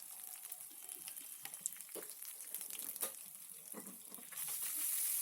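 A Telugu-style tempering of ginger-garlic paste sizzles faintly in a pan for coriander chutney, a quiet crackling hiss with a few soft stirs and no talk.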